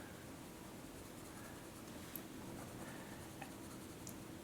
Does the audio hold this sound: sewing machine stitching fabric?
no